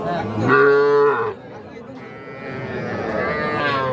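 Young Sahiwal calves at a livestock market give two drawn-out moos, the first loud and close, the second softer, with market noise between.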